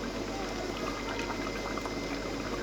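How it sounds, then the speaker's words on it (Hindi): Beef nihari broth topped with ghee simmers in a pot and is stirred, giving a continuous bubbling, gurgling liquid sound close by. "अब हम इसको हिलाएंगे"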